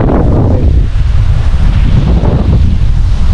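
Strong coastal wind buffets the microphone in a steady, loud roar by the sea at Dingalan, Aurora during stormy weather, with surf likely mixed underneath and no voices.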